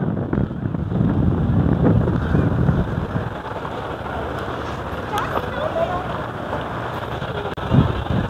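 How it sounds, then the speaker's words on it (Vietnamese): Strong wind at Nghinh Phong Cape in Vung Tau buffets the microphone in loud, rumbling gusts that ease slightly midway, with distant surf beneath and a person talking over it. "Đứng trên đây là lộng gió luôn."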